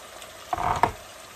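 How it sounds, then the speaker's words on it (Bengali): Ground coriander, cumin and turmeric stir-fried in a pan, a soft sizzle with two brief scraping stirs close together near the middle, close and fairly quiet, no talking. "হলুদ পাউডার, মশলাটা ভালো করে কষাবো"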